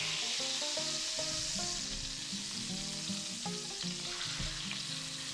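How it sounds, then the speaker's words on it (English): Pork chops sear in a hot oiled skillet, with a steady, close sizzle and crackle of frying running throughout. Occasional utensil clinks and pan sounds sit over the sizzle, and no one talks. "you want to place the pork chops in that hot skillet"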